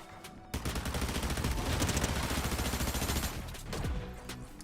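Rapid bursts of automatic gunfire in the video game Fortnite, dense and continuous for several seconds after a brief quiet start, shooting through a tree.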